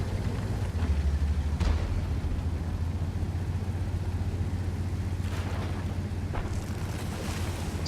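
A Scorpion tank from a video game rolls along with a steady, loud low engine rumble and track drone, broken by a few brief hissing bursts and clanks, with no talking.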